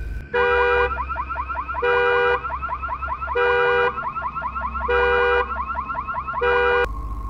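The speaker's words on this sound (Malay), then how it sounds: "Tiba-tiba alarm kereta aku berbunyi." A car alarm blares close by in a repeating cycle, alternating a warbling up-and-down whoop with bursts of loud pulsed tones about every one and a half seconds, cutting off abruptly at the end.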